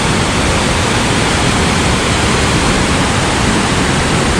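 A private waterfall at a Munnar resort roars as a dense, loud, unbroken broadband rush of falling water, close and steady with no voices.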